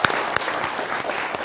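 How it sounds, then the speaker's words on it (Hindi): Studio audience at a televised Hindi news debate applauding, a dense burst of clapping from many hands that stays even and close throughout. "और जनता जनार्दन के लिए जोरदार तालियां।"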